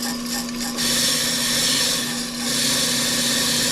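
An off-the-car brake lathe cuts slowly into a brake rotor at its thinnest point, giving a steady, grinding scrape with a constant motor hum that swells and dips slightly, close by with no talking.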